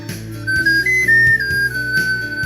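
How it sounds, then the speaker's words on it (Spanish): A flute plays a few sustained, whistle-like melodic notes rising and falling over a steady background music bed, clear and fairly loud, with no voices. "si lo ha producido una flauta"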